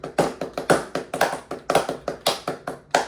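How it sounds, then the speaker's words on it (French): Slow, sparse hand claps, about a dozen distinct close claps in an uneven rhythm, crisp and dry with nothing underneath, more like one or a few people clapping than a full crowd. "On applaudit N26."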